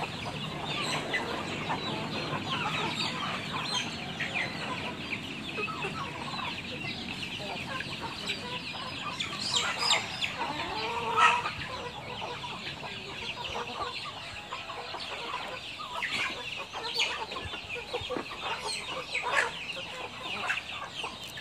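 Native village chickens cluck steadily at a farmyard for backyard breeding, a continuous busy flock chatter with occasional louder calls, at moderate distance and with no talk over it.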